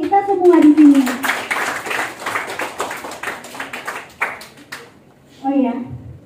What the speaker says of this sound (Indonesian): Terus tolong tepuk tangan yang meriah buat kita semua di sini.